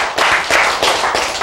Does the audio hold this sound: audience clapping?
yes